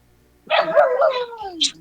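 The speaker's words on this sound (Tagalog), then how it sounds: "May nga yung aso namin dito eh." A dog lets out one drawn-out bark-like yelp that slides down in pitch, close and fairly loud, with a short sharp note at the end.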